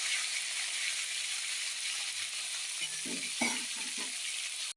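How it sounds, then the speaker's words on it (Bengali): Cauliflower pieces frying in hot oil until reddened, a steady bright sizzle joined near the end by a few quick scraping stirs and rattles, close and moderately quiet. "ফুলকপিগুলো লাল লাল করে ভাজতে হবে।"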